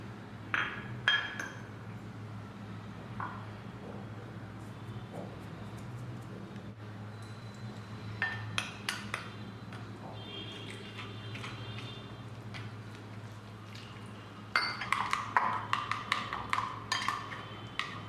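Corn flour and maida batter is stirred in a bowl, with light clinks and ticks of the utensil against the bowl coming in scattered clusters over a low, steady hum.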